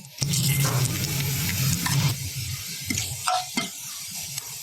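A bay leaf and half a spoon of cumin hit hot oil as tempering for spicy potato katli, giving a loud crackling sizzle that settles into a softer fizz, with a few sharp utensil clinks near the end.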